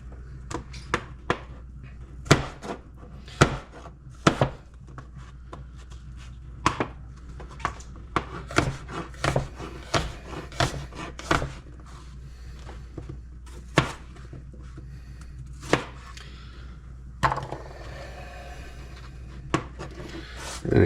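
Knife chopping through a large, woody seed pod, with repeated sharp cutting knocks at an irregular pace, loud and close, alongside rubbing and scraping of the tough pod material.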